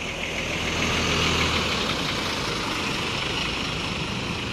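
A PO ANS intercity bus engine idles as the bus departs, giving a steady close-up diesel rumble and hiss at an even level throughout, with no talk.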